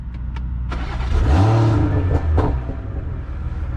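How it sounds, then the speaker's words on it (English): A tuned BMW M340i engine fires up with a loud, deep roar that swells and revs briefly before settling into a rumbling idle, close by. "Hear the startup roar though."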